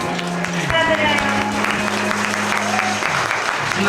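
Audience applause fills a wedding ceremony hall at a convention venue, steady dense clapping that holds for the whole span over sustained music tones, with a sung or spoken voice faintly mixed in.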